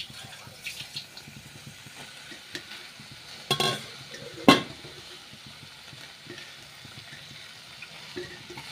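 Chapati noodles stirred with schezwan chutney in a pan, a low, gentle sizzle with scraping stir strokes and a couple of sharp clanks from the utensil against the pan, close and fairly quiet.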